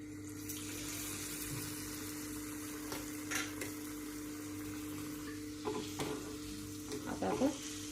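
Oil sizzling steadily in a pan as a coconut and puran mixture fries toward golden brown, with a few scraping stirs and clinks near the end and no talking.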